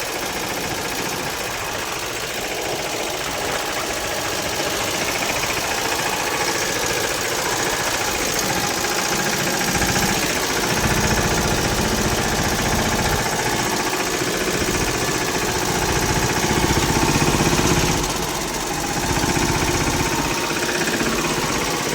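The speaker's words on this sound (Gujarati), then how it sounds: "આગળ આપણું ટ્રેક્ટર જાય છે મિત્રો." A farm tractor's engine runs continuously while it drives toward a field near Jamkandorna, a steady loud chugging rumble with road vibration and no pauses for the whole stretch.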